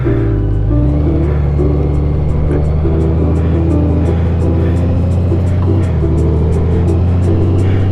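A 2024 Honda Gold Wing DCT motorcycle pulls away, its engine a loud, steady low drone that climbs slightly in pitch, close up and continuous over wind noise.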